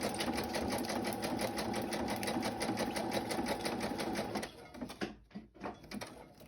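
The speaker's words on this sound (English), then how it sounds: "the sewing is done" A sewing machine stitches through a paper bag with a steady, fast mechanical chatter for several seconds. It then stops, followed by softer rustling and handling noises.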